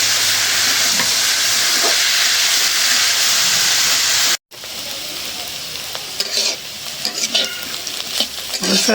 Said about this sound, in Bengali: উস্তা ভাজলে পেঁয়াজ কাঁচামরিচটা কড়া করে ভাজতে হয়, আর শুকনো মরিচটা একটু কড়া করে ভাজতে হয়